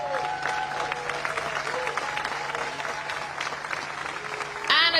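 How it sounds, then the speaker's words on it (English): Crowd applauds a podium finisher at a TCR World Tour touring car race in Vila Real, Portugal, a steady wash of clapping throughout with a steady tone underneath and a louder burst near the end. "Please put your hands together and give a huge round of applause for SP Competitions' Victor"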